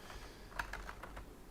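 Quick bursts of typing on a computer keyboard, a handful of soft distinct key clicks in close succession over a low room hum.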